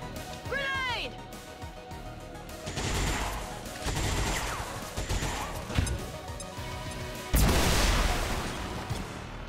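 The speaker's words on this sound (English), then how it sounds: "Grenade!" In XCOM 2: War of the Chosen, a grenade goes off with a heavy blast and crackling debris, among other game effects, sweeping tones and bursts of combat noise, with a player's voice talking over parts of it.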